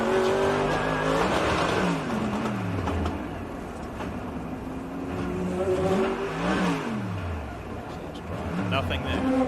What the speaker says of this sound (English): Engine still running, but driveline just free spinning